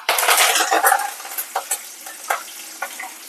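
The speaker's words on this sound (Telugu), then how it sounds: "పోపు ఇప్పుడు చక్కగా వేగిపోయింది కదా, ఈ టైంలో మనము కరివేపాకు వేసుకుందాం" Curry leaves go into hot tempering oil for a homemade brinjal podi curry. There is a loud crackling sizzle at first that eases into softer frying, broken by several sharp spoon-on-pan clinks.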